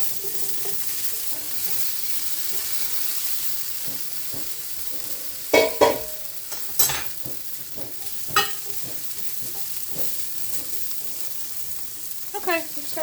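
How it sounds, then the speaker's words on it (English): Asparagus sizzles in a cast iron skillet under a steady hiss of frying, with a few sharp scrapes and clacks as it is stirred and moved around the pan. "I'm just going to throw these in the cast iron skillet and just start cooking them until they're tender."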